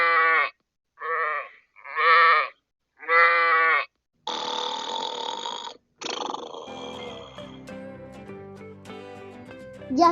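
Four short, loud sheep bleats in a row, each a quavering call with brief pauses between, followed by playful background music as part of a children's story.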